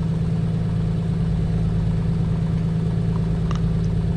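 Steady low drone of a Piper Comanche 250 piston engine warming up at idle in Microsoft Flight Simulator, loud and constant throughout.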